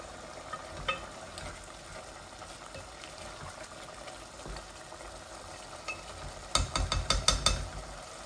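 Meat and potatoes sizzle and fry in oil in a pan for a Bangladeshi meat-potato bhuna, a steady low crackle that turns into a burst of louder, sharper spattering pops near the end.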